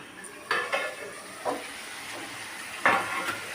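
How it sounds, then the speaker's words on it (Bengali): A spatula stirs ground spice paste frying in a pan: a few separate scrapes and clatters against a faint, steady sizzle, with quiet stretches in between. "এই দেখো ভালোভাবে ভেজে নিতে হচ্ছে"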